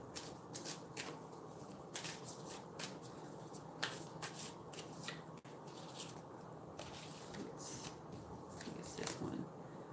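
Tarot cards shuffled by hand in a steady run of crisp riffles and soft slaps, close and fairly quiet, with no talking over them.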